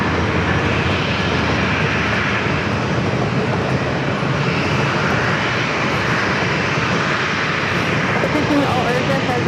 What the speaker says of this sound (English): Up first for takeoff is United Airlines with 1337.